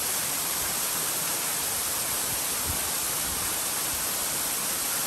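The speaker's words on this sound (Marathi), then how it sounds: "पावस सुरू जालो की हो धबधबो सुरू आसता" Saleli waterfall near Sattar pours in a steady, unbroken rush of broadband roar, even and continuous throughout with no voices.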